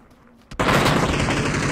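A burst of rapid gunfire in the battle royale shooter PUBG erupts after a faint lead-in, loud and sustained in a continuous automatic stream right to the end.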